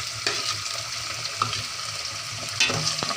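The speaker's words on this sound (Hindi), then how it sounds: "अब इसमें मैं चिकन ऐड कर रही हूँ।" Washed chicken added to browned onions in a pan while cooking bhindi gosht, frying with a constant loud sizzle and a few clanks and scrapes of stirring, close up with no voices.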